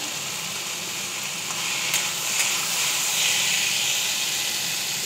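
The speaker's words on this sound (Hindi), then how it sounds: "देखिए हमारे सब्जी जो है उबल चुका है" A steady bubbling hiss of cauliflower and peas simmering in a pan, continuous and close, with no voices.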